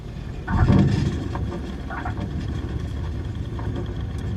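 A light aircraft engine throttled back to reduced power during a night landing flare at Wellesbourne: a steady, moderately loud droning hum with a brief swell near the start before it settles into an even, continuous rumble.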